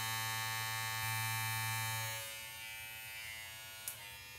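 A JRL 2020 cordless hair clipper hums steadily at its higher speed setting, a close, even electric buzz with no talking and a faint tap near the end.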